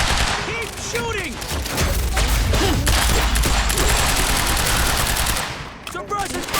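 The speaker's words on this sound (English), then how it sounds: "Keep shooting!" Sustained, loud gunfire in the Quantum Break video game, with rapid shots and heavy low rumble running almost throughout, mixed with voices and game effects.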